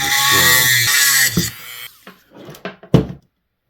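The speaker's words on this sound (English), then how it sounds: "I have to drill out the truck just a little bit to accommodate the thickness of the screw" A small drill whirs steadily for about a second and a half, then scrapes and clicks in short bursts of boring into an HO scale brass model train truck.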